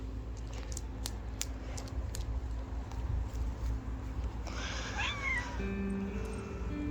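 A cat being walked in a backyard meows several times, a rising and falling call near the end, over a steady low outdoor hum and scattered small clicks.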